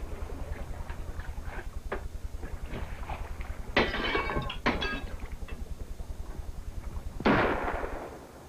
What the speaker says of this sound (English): how about one of you guys shooting off the flare gun?